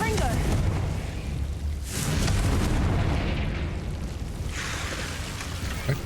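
Booming spell explosions in a video game, a broad roaring burst followed by another swelling blast, loud and noisy, with a voice in the clip.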